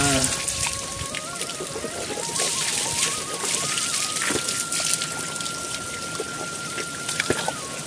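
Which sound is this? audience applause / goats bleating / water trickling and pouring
water trickling and pouring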